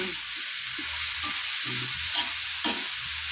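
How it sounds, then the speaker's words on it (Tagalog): Sliced bitter gourd (ampalaya) sizzles in an uncovered pan while being stirred, with a steady frying hiss and repeated soft scraping strokes of the utensil at a close, even rhythm. "Hinahalo-halo ko pa yan."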